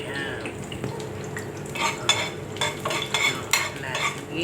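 Fried rice cooking with garlic in a pan, with stirring scrapes and clinks of utensil on metal over a steady low sizzle, close up, with light talk in the background.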